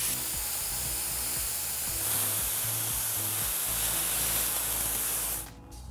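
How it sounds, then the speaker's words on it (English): Air gun from a compressor blasting a stream of hot glue into spider-web strands: a loud, continuous close hiss of rushing air that holds steady for over five seconds, then cuts off abruptly. "I will put a stream of glue in front of it and then blast it with air"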